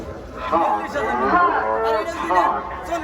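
Cattle moo at a bustling cattle and goat market ahead of Eid sacrifice, with a sustained, close lowing call over faint crowd chatter.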